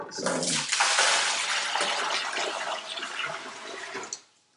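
Warm water pours steadily into a fermenting bucket for a Pinot Noir wine kit, a loud, continuous rushing gush that runs about four seconds before cutting off abruptly.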